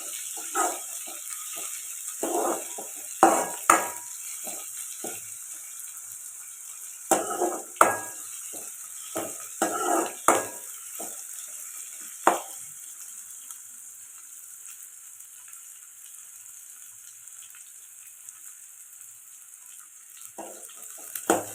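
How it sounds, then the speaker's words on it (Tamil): Ingredients for a pirandai (adamant creeper) thuvayal are sautéed in a pan until golden, with clattering stirs and scrapes over a soft sizzle in the first half before it settles into a quiet hiss. "பொன்னிறமாக மாறுற வரைக்கும் கொஞ்சம் வதக்கணும் நல்லா கொஞ்சம் வதக்கி விட்டுக்கோங்க"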